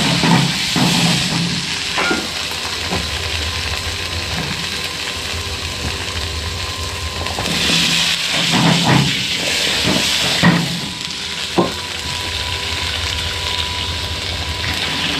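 Konnyaku stir-frying in salad oil for kenchin udon, a steady close hiss and sizzle with a few scraping stirs and clatters around the middle.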